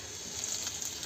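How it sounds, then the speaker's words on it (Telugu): Cumin, garlic, dried red chilies and curry leaves hitting hot oil for a tomato chutney tempering, giving a brief, steady, close sizzle with no voices. "ఇప్పుడు దీన్ని మనం పోపు పెట్టుకుందాం. ఇదిగో ఆయిల్ అయితే వేడైంది."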